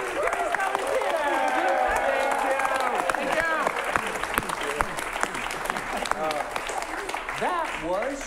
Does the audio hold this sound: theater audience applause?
yes